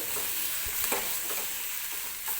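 A spoon stirs mashed brinjal (eggplant) with green chilli in hot oil, giving a constant close sizzle with soft scraping strokes.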